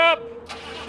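An old diesel engine on a cold morning catches after a brief crank and settles into a steady, rough idle, close by and loud, with a voice briefly heard at the start.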